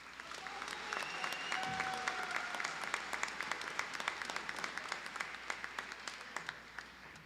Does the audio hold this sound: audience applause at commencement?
yes